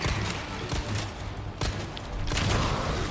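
Gunfire in Resident Evil 4, heard as a rapid volley of loud shots and thuds over a dense, noisy game background.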